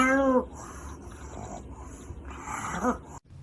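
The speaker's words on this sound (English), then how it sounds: "all the barking that has been going on today" A dog gives a sharp, tonal bark at the start and another near the end, with lower, rougher growly sounds in between, all fairly close and moderately loud.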